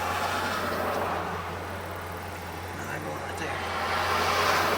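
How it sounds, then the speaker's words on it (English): Big white work trucks pass by outside a 1964 Pontiac Bonneville, a broad engine and road roar swelling and fading over the car's steady low idle hum, with people talking. "Got a big white work truck coming in. 2 work trucks."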